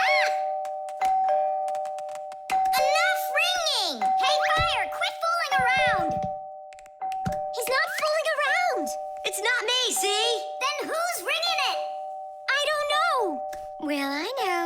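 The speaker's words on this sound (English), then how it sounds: "The doorbell's ringing because fire connected the wires together." An animated cartoon doorbell rings repeatedly after fire has shorted its wires together, giving a sustained electronic tone that runs under bright, lively cartoon voices talking over it.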